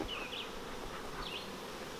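Honey bees buzz steadily around a double nucleus colony hive, a dense, continuous hum with occasional higher whines from individual bees passing close.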